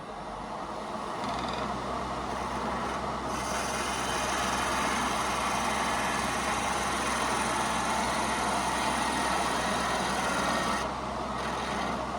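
A wood lathe spins a lidded canister blank while a Hurricane 3/4 or half-inch spindle gouge cuts it, giving a continuous, even drone and hiss that holds steady from start to finish.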